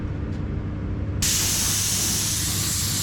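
A quiet hum gives way to a loud, steady hiss of a spray gun laying down finish on a drawer, continuing unbroken to the end.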